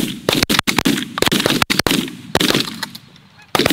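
Several 20 gauge shotgun blasts ring out in quick succession on an early-season goose hunt, loud and close, mixed with geese honking loudly nearby.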